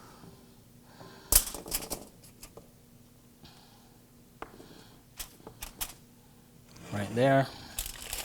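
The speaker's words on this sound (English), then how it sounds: "And then we bend the foil just like we did with the other with the potatoes." Aluminum foil is crinkled and bent around roasting vegetables, with sporadic close crackles and a louder crumpling burst near the end, amid faint background noise and a brief spoken remark.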